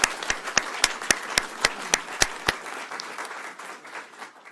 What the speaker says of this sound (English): We can clap for that one.